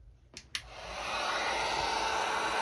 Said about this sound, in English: So I'm going to take my heat gun and just finish blowing that out.